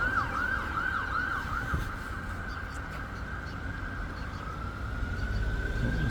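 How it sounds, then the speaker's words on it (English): An ambulance siren wails steadily on a street in Leeds, swooping at first then holding a sustained tone over rumbling traffic, fairly loud and close throughout. "What was that? Ambulance."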